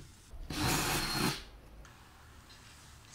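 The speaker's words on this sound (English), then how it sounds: "So we'll start with a pilot hole." A drill boring a pilot hole in a wall for a hollow wall anchor, a short, close whirring grind lasting about a second, then quiet.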